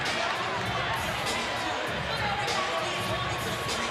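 Large crowd at a live boxing event cheering and roaring steadily, a dense wash of voices throughout, with commentators talking over it.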